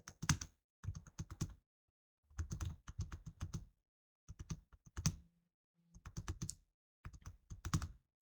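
Fingers type on a computer keyboard while entering an Excel formula, producing crisp close key clicks in quick bursts separated by short silent pauses, with no talking.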